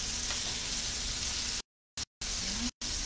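Sausages and onions sizzle in a frying pan, a steady hiss of frying fat close up, broken by a few abrupt gaps of silence.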